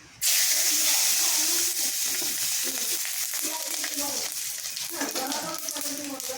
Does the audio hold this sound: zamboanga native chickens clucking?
no